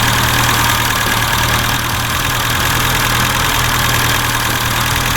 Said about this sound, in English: So we want the best, fastest, and smoothest idle.